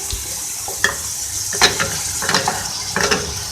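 Beef keema for a hari mirch recipe sizzles and fries in a pan, a steady loud hiss broken by repeated scraping stirs and small clanks, with no one talking.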